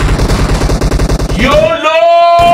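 DBS and S12K shotguns fire in a video game as a fast, loud string of close blasts, which gives way to a ringing electronic tone at the end.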